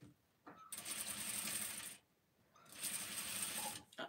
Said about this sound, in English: So this one is going to be sewn all the way to the end.